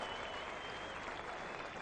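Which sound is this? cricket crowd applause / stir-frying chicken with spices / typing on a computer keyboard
cricket crowd applause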